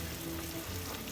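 Soft, dense bubbling and simmering from a pot of food with tomatoes cooking down, steady and close with no talking.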